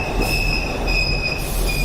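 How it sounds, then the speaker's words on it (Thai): In the video game The Ghost Train, a train pulls in with a loud, sustained metallic squeal of wheels over a rumbling rail noise, close and continuous, with no talking. "รถไฟมาแล้ว"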